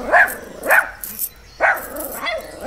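A dog in a Malayalam film scene barks four times in close succession; the barks are loud, near and sharp, with short pauses between them.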